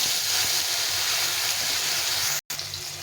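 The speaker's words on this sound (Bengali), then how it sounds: "পনিরটা খুব ভাজবো না, হালকা করে একটু ভেজে নেবো।" Paneer pieces frying lightly in hot oil in a pan, a steady loud sizzle and hiss that runs almost without pause, broken once by a brief dropout near the end.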